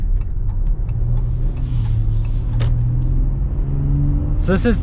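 A Ram truck engine accelerates with a steady low rumble that stays loud throughout, a person speaking briefly over it near the start.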